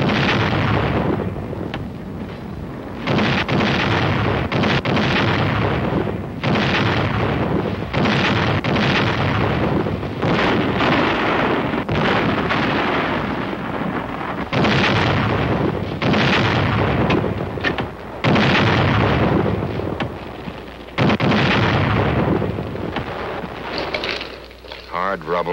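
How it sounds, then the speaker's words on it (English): Artillery guns fire in 1951 Korean War documentary footage, a long run of loud, booming blasts at close range that overlap into a continuous rumble, with someone talking over them. "Number one gun, fire!"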